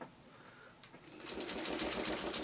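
A sewing machine stitches a seam on a fabric pet bed, starting faintly and then running at a steady, rapid needle rhythm, close and moderately quiet.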